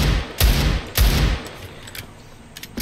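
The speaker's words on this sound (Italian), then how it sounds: "L'unica cosa che è realmente cambiata è il suono dello sparo." Pistol shots from a Desert Eagle in the CS:GO video game, two sharp loud bangs about half a second apart with short decaying tails, followed by fainter mechanical clicks.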